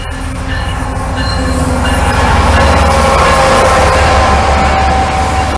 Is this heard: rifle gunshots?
no